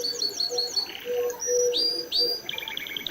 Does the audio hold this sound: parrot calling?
yes